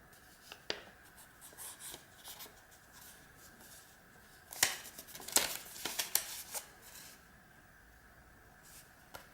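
Paper folded by hand for an origami kaleidoscope, soft scattered crinkles and creases, quiet and close, with a brief cluster of sharper rustles and presses midway.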